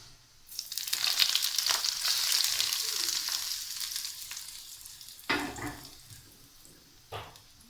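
Hot oil sizzles loudly as cumin seeds hit the pan for a tadka tempering, a bright crackling hiss that gradually fades, followed by a couple of brief clatters.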